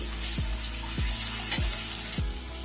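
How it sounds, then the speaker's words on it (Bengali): Spices with tomato and red chilli powder are sautéed in oil for a fish curry, making a continuous close sizzle with evenly spaced stirring scrapes repeating roughly every half second. "এবার সব মশলা আরও কিছুক্ষণ ভালো করে আমি কষিয়ে নেব যতক্ষণ টমেটোটা না গলে যাচ্ছে"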